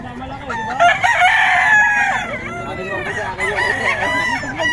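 Roosters at a Bocaue chicken market let out loud, layered crows one after another, with clucking and distant chatter of people underneath.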